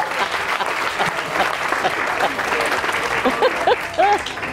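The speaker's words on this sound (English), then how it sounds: "Big round of applause for all our volunteers." Audience applause for a group of volunteers at a stage hypnosis show, a steady dense wash of clapping held at an even level throughout, with a voice briefly audible underneath near the end.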